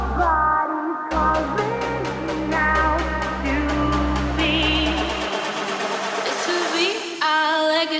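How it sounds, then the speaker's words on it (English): Rising uplifter and riser sweeps climb through an electronic dance build-up over a held bass note and repeated chord stabs, loud and dense, the low end dropping out near the end before a bright burst. "We have some uplifters and risers here."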